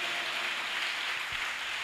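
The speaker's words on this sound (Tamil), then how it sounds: "கைத்தட்டி ஆண்டவருக்கு ஸ்தோத்திரம் பண்ணுங்க." A church congregation at a youth meeting claps their hands in a dense, continuous patter that stays steady and fairly even throughout, like a broad wash of applause heard from within the room.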